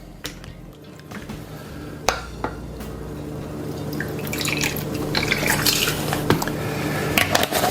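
Rum poured for a swimming pool cocktail trickles and drips into a glass, a steady close liquid flow with small splashes and a few sharper clinks.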